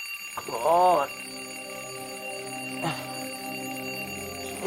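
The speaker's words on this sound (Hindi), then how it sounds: "सुबह किसने अलार्म उठाया?" A morning alarm clock rings in a short burst of warbling, bell-like tones near the start, loud and close, then stops, leaving a steady background hum with a faint click.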